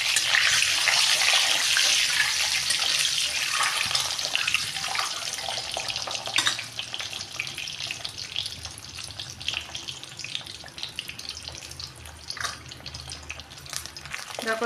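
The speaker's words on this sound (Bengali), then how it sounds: "এবার আমি ডিম 3টে ভেজে নেব।" Three eggs frying in hot oil in a pan, giving a steady broadband sizzle with crackling bursts and a few sharper spatters, loud and close throughout.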